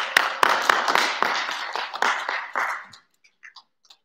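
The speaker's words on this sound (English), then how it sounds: "Give them a round of applause," A few people clap at a school assembly, the claps sharp and separate, some nearer and louder, until they fade out after about three seconds and leave a few faint taps.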